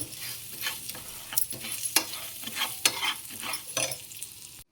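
Urad dal toasting in a warm pan, a steady soft sizzle broken by repeated scraping stir strokes that come in uneven bursts, close by and with no voices.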